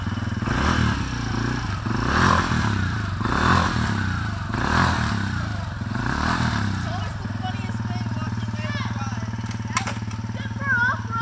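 A kids' Christmas toy scooter runs with a steady low motor hum and rhythmic clattering and scraping swells every second or so, later settling into an even whine with a few clicks.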